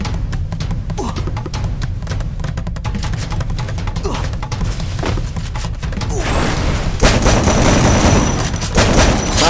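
Shotgun fire in a squad ranked shooting video game, heard as repeated sharp blasts over busy game noise, growing denser and louder toward the end.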